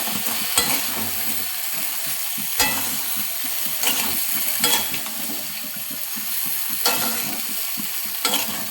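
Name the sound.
stirring sweet mango pickle in a pan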